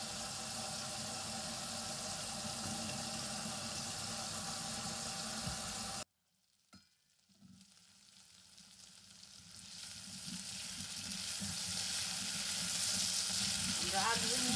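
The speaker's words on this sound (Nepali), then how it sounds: "हाम्रो आलु पनि मजाले फ्राई हुँदैछ।" Potatoes fry in a pan with a dense, steady sizzle that cuts out abruptly midway, then gradually swells back to full strength.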